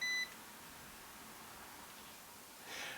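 An AstroAI WH5000A multimeter in continuity mode gives a single short, clear electronic beep at the start, followed by quiet background hiss and a faint rustle near the end.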